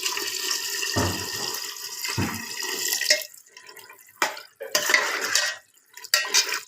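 Water pours into an aluminium pressure cooker holding dry macaroni in a home kitchen, with splashing, metallic clinks and short pauses between pours.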